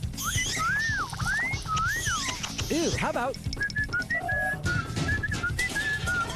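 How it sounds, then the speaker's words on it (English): A video game character whistles a few swooping, rising and falling phrases over a game soundtrack, followed by talk and short chirpy whistled tones. "Look what happens when I whistle at these weirdos."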